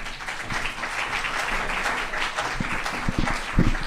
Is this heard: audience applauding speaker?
yes